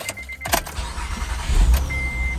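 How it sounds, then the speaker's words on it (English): A 2004–2008 Acura TL starting after a starter replacement: a short loud crank catches within half a second, then the engine settles into a steady close idle, with a faint whine near the end. "All right, so we're about to start the car."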